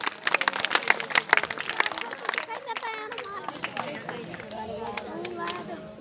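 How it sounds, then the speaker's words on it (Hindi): Audience clapping for a student at a school prize distribution ceremony, a burst of hand claps that fades over several seconds while children's voices and chatter continue. "भरपूर तालियां अहमद अली के लिए।"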